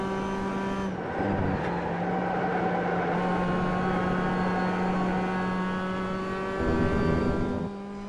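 Mazda MX-5 Roadster engine in iRacing at Laguna Seca, revving steadily at high RPM with strong harmonic whine, briefly dropping pitch around gear changes before climbing again, loud and continuous with no talk.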